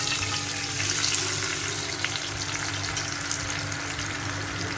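A mixed spice paste fries in oil left over from frying hilsa fish for shorshe ilish, giving a steady, close, hissing sizzle throughout with no talk.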